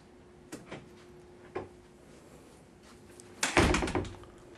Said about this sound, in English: Come on, shut the door.